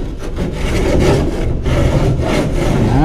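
Metal furring strip rubbed back and forth along the edge of a ceiling cove to straighten it, a continuous loud scraping rasp with repeated strokes, close by and with no talk.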